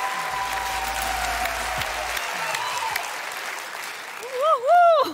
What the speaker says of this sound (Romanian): haideți să-l primim cu aplauze pe Vlad Bilț!